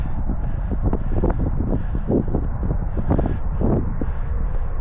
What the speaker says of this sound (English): very cold, very windy on this walk